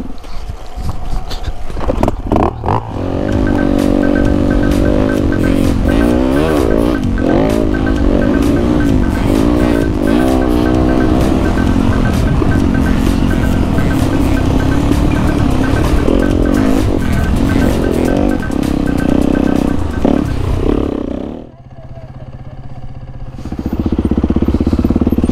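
Dirt bike with a broken starter, missing its fender, roaring loudly and steadily after a push start, its engine holding a constant drone for about twenty seconds before cutting out briefly and picking back up.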